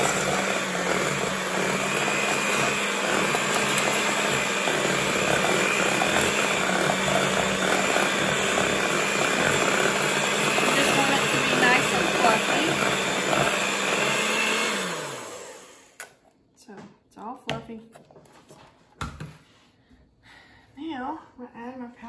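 An electric hand mixer whirs steadily while creaming cream cheese and butter together for a hummingbird cake, a loud continuous motor drone that stops abruptly near the end, followed by a few clinks and a quiet kitchen.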